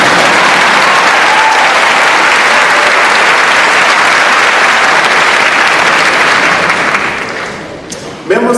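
Loud, dense applause fills a college commencement ceremony, a continuous wash of clapping that tapers off near the end as a voice begins speaking.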